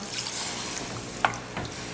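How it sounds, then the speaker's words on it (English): Steady splashing of water poured into a pot of curried beef and coconut milk, a continuous running-liquid wash with a few brief clinks, close and fairly loud. "put more water in."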